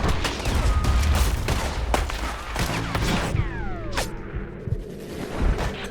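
Red Dead Redemption 2 gunfire, a heavy gun going off several times in loud booming shots with ringing tails, followed by quieter clatter and metallic sounds as the echoes fade.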